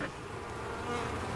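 A soft, steady buzz of many honeybees hums close by around a hive after a cold winter, a faint continuous drone with no talking.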